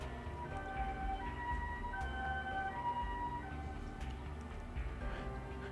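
An ambulance siren in the video game Super Robot Wars V wails in steady tones over a low background rumble, moderately loud and continuous for several seconds with no speech.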